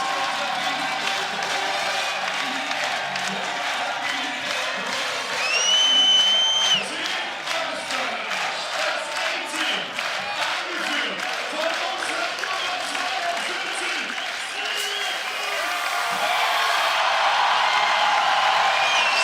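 Crowd of about 3,000 at a FIBA 3x3 Basketball World Cup 2023 quarter-final, cheering for Team Austria, a dense sustained roar with whistles and shouts that swells louder toward the end.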